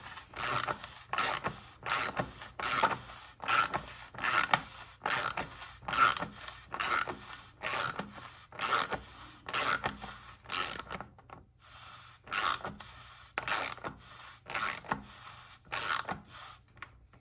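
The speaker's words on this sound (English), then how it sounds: "And now we can go ahead and tighten it down to what we want." Regular clicking of a torque wrench ratchet tightening a bicycle crank bolt to 10 newton meters, a steady series of close, crisp ticks with a brief pause near the end, no talking.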